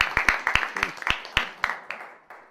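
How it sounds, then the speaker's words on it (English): A small audience at a talk claps sparsely, with a dozen or so distinct, fairly close claps in an uneven rhythm that thin out and stop. "I think we should give them a round of applause for that"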